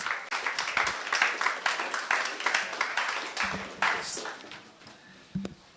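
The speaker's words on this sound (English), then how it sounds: "A round of applause, please." A conference audience applauds, a steady run of claps with distinct sharp hits, easing off toward the end with a few scattered final claps.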